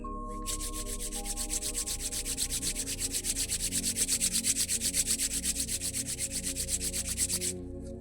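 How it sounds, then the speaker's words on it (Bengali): Two palms rubbed briskly together in a steady back-and-forth rhythm during a reiki hand activation, a close, soft, dry swishing that repeats evenly for several seconds and then stops. "কয়েকবার হাত ঘষে নিন।"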